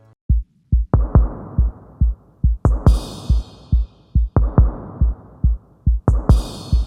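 A drum beat built from Logic stock kicks and hi-hats, part of a song remake: steady, punchy kick thumps with short hi-hat ticks and occasional brighter hi-hat hits, loud and alone.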